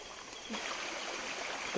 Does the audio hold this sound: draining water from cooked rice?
yes